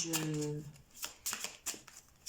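Tarot cards are shuffled during a card reading, with brief riffling bursts recurring at a steady pace after a short spoken opening, close and fairly quiet.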